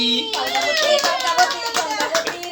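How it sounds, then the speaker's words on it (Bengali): Hands clap together at a child's second birthday celebration, a quick burst of many claps mixed with voices and the end of a sung birthday tune, with people talking throughout. "হাততালি"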